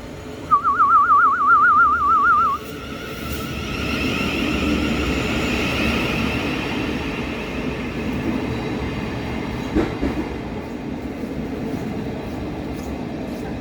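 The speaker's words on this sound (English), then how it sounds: "I see my train arriving now." A Dartford Loop train rumbles steadily into a station in the rain, a brief warbling tone sounding at the start, followed by a continuous low roar of wheels and motion.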